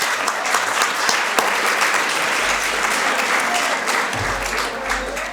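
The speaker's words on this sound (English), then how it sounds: "So a round of applause for our Zoom guests." A banquet audience at a chamber of commerce annual meeting and awards dinner bursts into sustained, dense applause that holds steady and fairly loud throughout.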